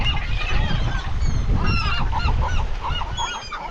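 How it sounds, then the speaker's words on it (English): Seagulls calling at a beach in Mag Bay, Mexico: a cluster of harsh, honking cries overlapping one another, close and loud over steady wind and surf rumble. "Watch these seagulls."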